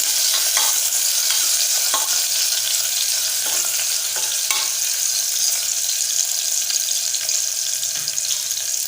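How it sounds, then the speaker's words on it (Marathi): Sliced onion sautéing in hot oil while being stirred in a pan: a dense, continuous sizzle close by, broken by repeated soft scraping strokes of a spoon. "थोडंसं परतवून घेऊया"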